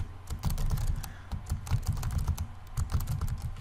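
Rapid, uneven typing on a computer keyboard while text is entered into a blog post, the key clicks close and steady throughout with no voice.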